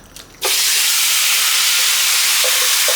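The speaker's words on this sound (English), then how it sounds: "now I'm just going to splatter all my lamb in here and spread it all out" Lamb pieces hit a smoking-hot wok for a Cantonese stir fry with bell peppers, and a loud, sudden burst of sizzling follows. The hiss then stays dense and constant, with faint clinks near the end.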